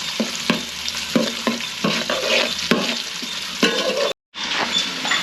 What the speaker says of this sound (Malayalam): ചെറിയ ഉള്ളി അരിഞ്ഞ് അതൊന്ന് മൂക്കട്ടെ